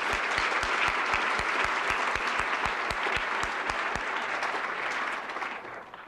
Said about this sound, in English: I'd like a round of applause for Arian.